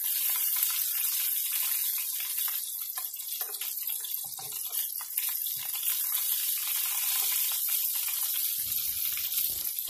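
Red belly yellow tail fish frying in a pan, a continuous loud, bright hiss of spitting oil that holds steady throughout, with a few faint knocks and a low rumble near the end.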